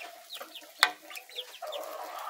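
Farmyard chickens cluck in a quick series of short notes close by, with one sharper squawk, against steady low background noise and no talk.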